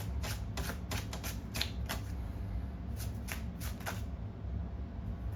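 Tarot cards being shuffled by hand in repeated quick riffling bursts, crisp and close, pausing briefly between rounds with no talking.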